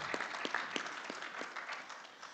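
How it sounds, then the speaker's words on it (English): An audience at a construction law conference applauds to welcome a speaker, a faint, thin patter of clapping heard from a distance that slowly tapers off. "Please welcome him with a warm hand of applause."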